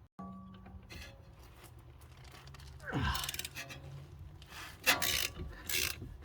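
Ratcheting of a wrench working an 18mm nut and bolt loose from a suspension control arm on a 2016 Audi A7 Quattro during a coilover install, with rhythmic clicks, a metallic groan and scraping close by and no talk.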